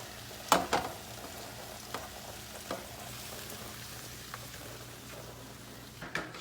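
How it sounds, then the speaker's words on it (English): Tortillas warm in a pan for meatless tacos, giving a soft, steady sizzle with a few sharp crackles and pops near the start and a faint hum underneath. "We got the tortillas heating up."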